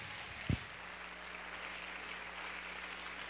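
Applause from an audience crowd at a live talk event fills the clip as a faint, steady wash of clapping after a brief thump at the start.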